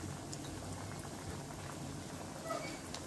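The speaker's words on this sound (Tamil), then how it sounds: "கொஞ்சம் அப்படியே பொன் கலராக வறுத்து எடுத்துக்கலாம்" Banana flower vadas fry in hot sesame oil, a soft, steady bubbling and crackle with faint spatters throughout, heard alone and at low level.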